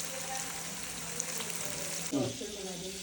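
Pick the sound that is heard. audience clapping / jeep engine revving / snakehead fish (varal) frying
snakehead fish (varal) frying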